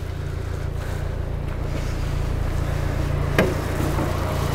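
A tuned 2020 Renault Megane RS Trophy R, limited edition, runs with its engine giving a steady, deep idling rumble that stays even and fairly loud throughout, with no one talking.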